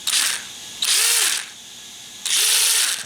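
Brushless motor of an RC Land Rover LR3 spinning up in three bursts, each a loud high whine that rises and fades, with short quiet gaps between, close by and without talk.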